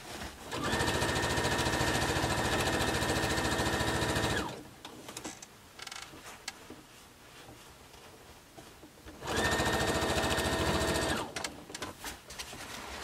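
A sewing machine runs the final seam of a T-shirt quilt in two loud, steady bursts with a quieter gap of fabric handling between them, heard close up.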